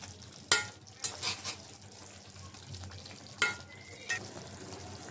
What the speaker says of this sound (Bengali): একটু হালকাভাবে নাড়াচাড়া দিয়ে দিব